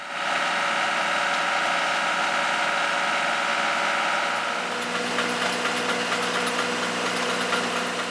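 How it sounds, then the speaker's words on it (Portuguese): Tractor-mounted shaker clamped to a pecan tree trunk, running as a steady loud mechanical drone with dense vibration throughout, shifting in texture midway as the tree is shaken. "Acoplado ao trator, ele é fixado ao tronco da nogueira e sacode a árvore, o que facilita bastante o trabalho."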